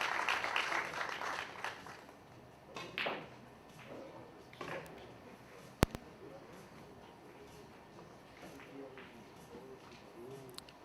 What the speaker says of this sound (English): May have just heard a little round of applause while that push shot was being played